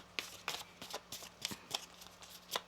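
Tarot cards are shuffled up close, a quiet series of about ten crisp riffling flicks in an uneven rhythm, with no talking over them.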